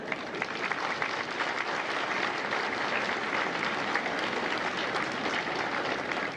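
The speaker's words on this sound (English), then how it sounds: "Please give yourselves a round of applause." Sustained applause fills the hall at a Marine recruit graduation for Bravo Company at MCRD San Diego, a dense, even clapping from a large crowd that holds steady and loud throughout.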